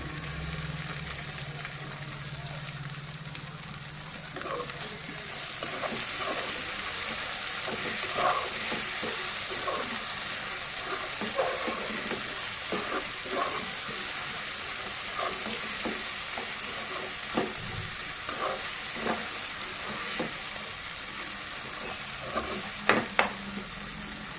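Mutton and drumstick curry with chopped coriander and mint simmers in a pan, giving a constant close sizzle and bubbling. Scattered stirring clicks sit on top of it.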